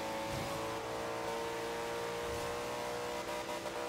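A Chevrolet car in a Forza Horizon 2 drag race video game holds a steady, droning engine note at high revs, topping out as it climbs, loud and continuous.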